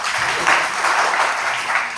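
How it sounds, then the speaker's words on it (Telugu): Audience applause at a school or academic event honoring students' top town results, a steady continuous patter of clapping across the whole moment. "క్లాప్స్ అండి అందరూ"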